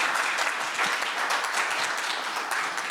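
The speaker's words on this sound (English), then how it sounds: "Please give the panelists a round of applause." Conference audience applauding panelists at a Capacity Asia 2022 session, a loud, continuous wash of many hands clapping that holds steady throughout.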